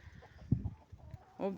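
Close chickens cluck in short, uneven bursts, with a louder squawking call near the end.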